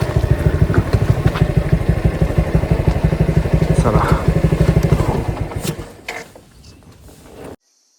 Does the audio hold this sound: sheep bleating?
no